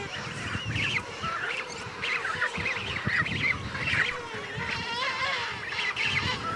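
Several young birds call repeatedly with harsh, honking cries, overlapping in a noisy, continuous chorus close by.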